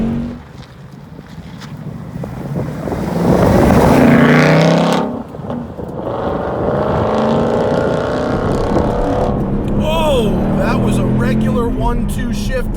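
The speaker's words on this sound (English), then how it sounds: "Regular 1-2 shift, and I heard an audible grind from the back" A 710-horsepower 2019 Roush Stage 3 Mustang accelerates hard through a regular 1-2 gear shift, its loud, close engine roar swelling and then holding steady, with wind noise and a voice near the end.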